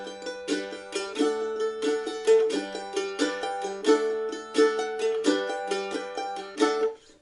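A bright plucked mandolin plays the Irish jig "The Connaughtman's Rambles", each group of three opening with a strum and flowing into quick arpeggiated runs, steady and close.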